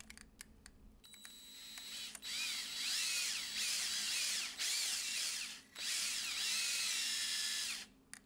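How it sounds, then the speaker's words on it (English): Power drill pre-drilling holes in a race-car track part removed from its bracket, several loud whining bursts of a few seconds each with short pauses between, close by and with no talk. "to pre-drill the holes"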